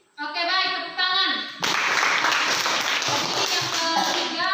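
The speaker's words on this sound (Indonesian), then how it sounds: "Oke, baik, tepuk tangan." Classroom of students bursting into applause after a brief spoken voice, the clapping dense and sustained to the end.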